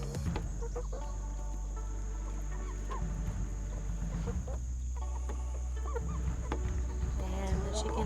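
Chickens cluck and murmur close by, fed alginate scraps after making an acrylic hand cast, over a steady low hum with intermittent soft calls throughout.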